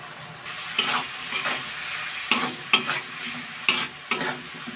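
Radish greens frying in a pan with chopped garlic and green chili, a steady close sizzle broken by several sharp scraping stir strokes, no voices.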